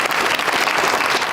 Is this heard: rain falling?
no